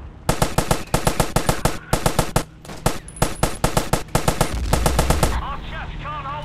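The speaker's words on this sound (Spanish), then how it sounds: "Voy a coger la ametralladora, voy a matar a esos que vienen." Bursts of machine gun fire in Battlefield 1942 rattle in rapid, repeated volleys with brief gaps between them, loud and close, before the shooting gives way to a lower background rumble.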